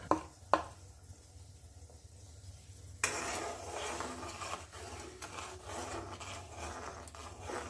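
Green chillies are stirred in a pan while making upma: a couple of sharp knocks, then a steady scraping and rasping of a spoon against the pan, close and continuous, with no talk.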